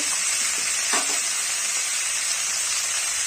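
Potatoes frying in hot oil with salt and turmeric, a steady close sizzle and hiss that holds through the whole stretch, with a couple of faint utensil scrapes early on and no voices.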